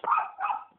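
A dog outdoors in a forest gives two quick, close barks in a row, loud and clear with no talking.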